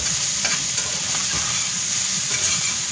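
A metal spatula scrapes and stirs sausage browning in a frying pan, with steady sizzling throughout and repeated soft scraping strokes for biscuits-and-sausage-gravy prep; no one speaks.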